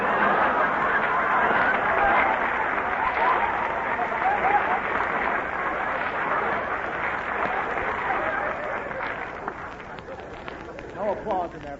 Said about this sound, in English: No applause in there, please.